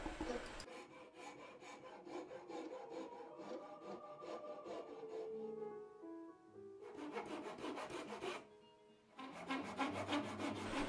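Wood being shaped with a rasp while building a Laughing Loon baidarka kayak, the final shaping of the bow: steady rhythmic rasping strokes, close and fairly loud, with a brief pause near the middle.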